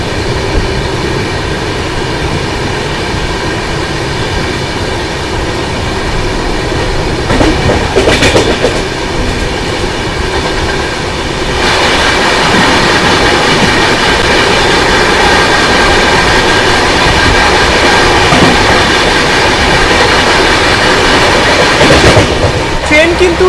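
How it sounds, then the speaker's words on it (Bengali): The Howrah Jan Shatabdi Express runs at full speed, about 120 km/h, heard from inside as a loud continuous rumble and rattle with clickety-clack of wheels and brief swells of passing noise. "ট্রেন কিন্তু টানছে ফুল স্পিডে, 120-125-এ কন্টিনিউ ট্রেন টানছে"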